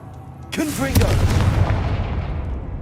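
A Confringo blasting spell fires off in the Hogwarts Legacy game as a sudden loud boom with a rumbling tail that rolls on, over game effects and a spoken voice.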